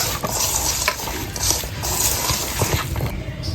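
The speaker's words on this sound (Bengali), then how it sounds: "জল দিয়ে দিলাম।" Water poured into a pot of bata fish curry made with raw oil, giving a steady close wash of sizzling and liquid splashing that fills the whole moment without any voices.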